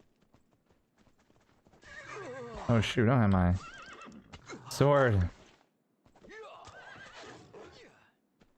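Horse neighs and whinnies twice loudly up close in the open-world survival game Myth of Empires, each call separated by a pause, with clip-clop hooves faintly beneath and someone speaking briefly afterward.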